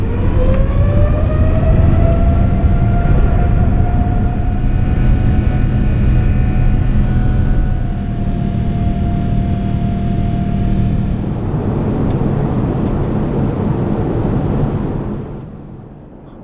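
A China Southern Boeing 787 on its departure from Guangzhou roars loudly through takeoff, heard from the cabin as a rising engine whine over a steady, heavy rumble that holds for most of the run before easing off at the end.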